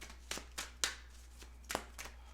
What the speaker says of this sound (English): All right, so I'm going to shuffle these in.